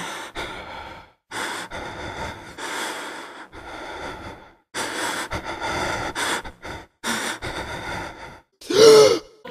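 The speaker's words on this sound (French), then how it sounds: "Peur qui est accentuée par ces respirations haletantes" Ragged, breathy panting and gasping from the character Daniel in the horror video game Amnesia: The Dark Descent, heard as uneven bursts of heavy breathing with short pauses, ending in a sharper strained gasp.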